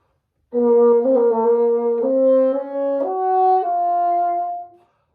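A bassoon plays a short ornamented phrase from a lyrical etude, a quick turn around a note followed by held notes moving upward, solo and close.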